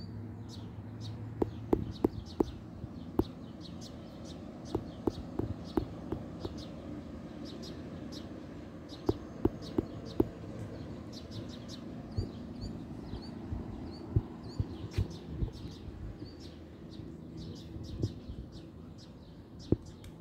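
Sparrow chicks chirping in a park beside a spring-fed pond, a scatter of faint, high chirps over steady outdoor background hum.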